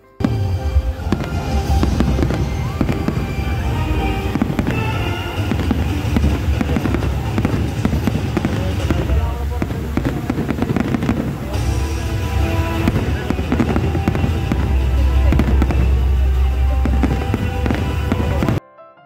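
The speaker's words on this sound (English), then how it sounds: "Dubai at Blue Water Island, with its breathtaking views of the city magnificent cityscape, is the ideal destination to watch the New Year's firework." New Year fireworks at Blue Water Island in Dubai, a dense, continuous barrage of booms and crackling bursts heard from a distance, loud and sustained throughout with wind rumble on the microphone.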